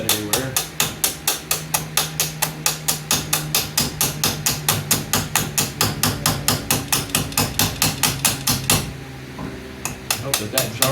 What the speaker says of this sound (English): I'm going to beat the crap out of the carburetor